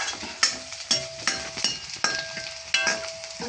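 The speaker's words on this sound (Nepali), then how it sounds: "लसुन र खोर्सानी अनि अलिकति तेल लगाएर भुट्दै हुनुहुन्छ आमाले।" Stinging nettle is fried with garlic and chilli in a little oil in a village kitchen, with a soft sizzle under repeated scraping strokes of a utensil against the pan, about one every half second.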